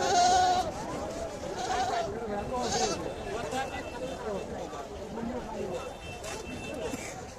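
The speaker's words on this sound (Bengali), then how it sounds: "তো অনেক সুন্দর ছাগলের লাইনে দেখতে পাচ্ছেন বড় বড় ছাগল" Goats bleat several times at a village livestock market in Chandaikona, Sirajganj, their calls rising over a busy crowd of talking voices and steady market bustle.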